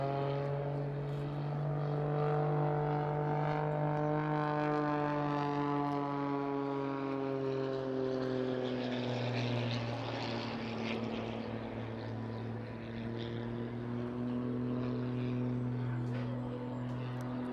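A small Pitts aerobatic propeller plane with a 300 horsepower engine drones overhead at an airshow, its engine tone steady and then dipping lower as it passes, loud and continuous throughout.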